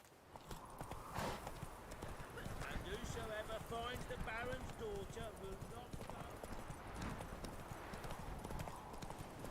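Hoofbeats of Roach, a horse in The Witcher 3, clip-clopping at a steady run near the listener, continuous and rhythmic, with someone talking and game music layered over the gallop.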